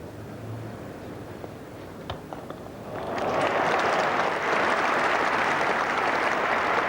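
A cricket crowd at Lord's applauds a boundary by David Gower in the 1985 England v Australia Test, the clapping swelling suddenly from a quiet murmur into a broad, sustained ovation from a distant, packed ground.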